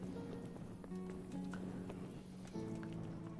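Horse hooves clip-clop at a steady trot in Kingdom Come: Deliverance, faint and continuous under soft ambient noise.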